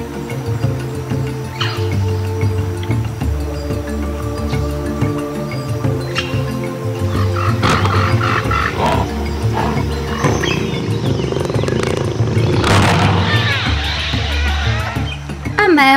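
A male lion roars amid wild-animal sounds, a few deep, rough bursts that swell near the end, heard beneath ongoing narration.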